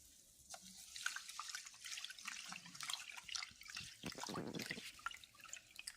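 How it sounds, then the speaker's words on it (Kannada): Rice and moong dal are washed in water inside a pressure cooker, making soft, close sloshing and dripping with a few splashier swirls toward the end. "ಸರಿ ನೀಟಾಗಿ ವಾಶ್ ಮಾಡ್ಕೊಬರ್ತೇನೆ"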